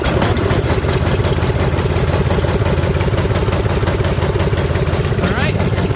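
A Toro 721R snowblower engine, just pulled out of storage, runs at a steady loud idle throughout, with a continuous low mechanical chug and some clatter.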